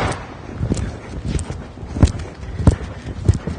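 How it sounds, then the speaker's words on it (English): A young horse canters in a dressage arena, its hoofbeats thudding in an irregular, rhythmic sequence against steady background noise, fairly close and moderately loud. "I start my work in the canter because he's a young horse"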